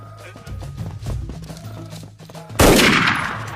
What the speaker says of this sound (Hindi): अबे फायरिंग हो गई।